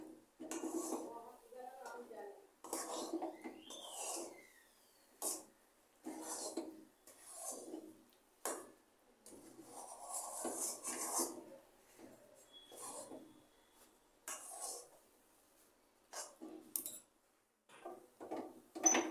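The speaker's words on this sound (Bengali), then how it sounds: "গুড় দিয়ে আবার নাড়তে হবে।" Jaggery being stirred into a rice flour mixture in a pan, with intermittent scraping and rubbing strokes of a utensil against the pan, coming in short separate bursts over a quiet background.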